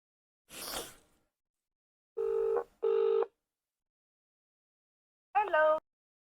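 Telephone keypad dialing tones on a call, a short burst of noise followed by two clear steady beeps and then a third warbling tone, close and clean with silence between them.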